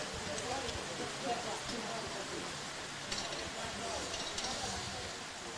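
Steady rain falls over an outdoor football pitch during a National Premier League match between South Hobart and Devonport Strikers at Darcy Street, a constant soft hiss under the broadcast.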